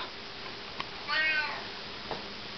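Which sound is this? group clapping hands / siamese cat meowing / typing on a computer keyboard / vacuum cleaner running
siamese cat meowing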